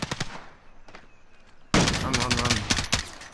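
Rapid gunfire in Call of Duty: Modern Warfare cracks in dense, loud bursts after a voice speaks over a few scattered shots at the start.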